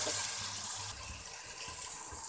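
Water splashes into a pan of frying chicken methi masala, a loud sizzling hiss and bubbling that holds steady for a couple of seconds.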